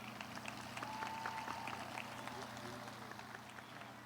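Audience applause for graduating students at a World Languages Institute graduation ceremony, a soft, diffuse patter of clapping from a crowd heard at a distance, low and steady, with a faint hum and background murmur underneath.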